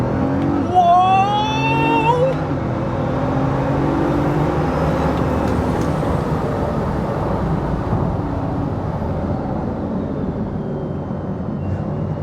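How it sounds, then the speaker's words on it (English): A Bugatti Veyron with a dual clutch transmission, its engine roaring near and loud with quick rising tones at the start and then a sustained rumble as it downshifts, with no talk. "This dual clutch transmission actually is pretty great. Listen to those downshifts."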